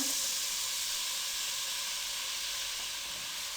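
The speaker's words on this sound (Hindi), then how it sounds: "अब इसमें हम बारीक कटी हुई प्याज डाल देंगे।" Finely chopped onions hit hot cooking oil in a kadai, giving a steady, loud, close sizzle and hiss that holds without a break, with no talking.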